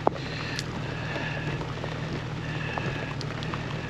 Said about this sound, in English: Ooh, it's pouring rain.